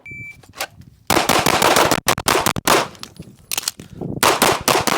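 A custom SIG P320 pistol with a PMM Flushcomp compensator is fired rapidly at close range. Loud sharp shots come in fast strings and bursts with short pauses between them, and no voices.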